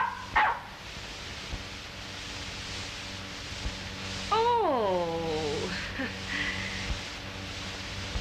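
A small dog barks in a 1932 comedy film, a couple of short yips and a sharper bark over a hissy old soundtrack, with a brief whining, rising and falling tone partway through.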